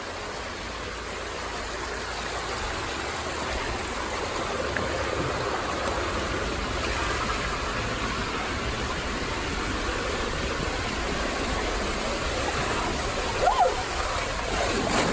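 Water splashing at a resort pool slide, a steady broad hiss of rushing, churning water heard close by, continuous and moderately loud, with a brief sharper splash near the end and no talk.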